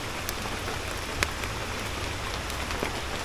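Steady rain falls over a farm garden in Karnataka, a dense even patter that holds throughout with a few sharper drops standing out; no one speaks.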